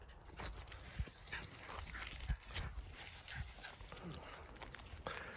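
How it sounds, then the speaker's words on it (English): A puppy pants and stirs close by, with soft scuffling and faint movement noises, fairly quiet throughout. "This is a nice little pup right here, man."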